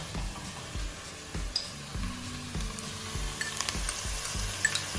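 Ginger garlic paste lands in a hot frying pan for a mutton paya, goat leg soup, and sizzles with a soft, steady crackle. Repeated low stirring knocks and scrapes sound close by.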